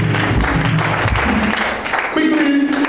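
A church congregation claps and cheers for Jesus at a lively service, a dense wash of applause mixed with voices throughout, fading slightly near the end.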